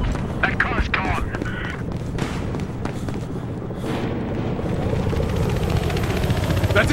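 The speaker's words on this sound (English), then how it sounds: "That's a transport chopper!" In a Battlefield Hotwire match on the Downtown map, a police transport helicopter rumbles steadily beneath explosions, gunfire and shouting voices, forming a dense, continuous wash of noise.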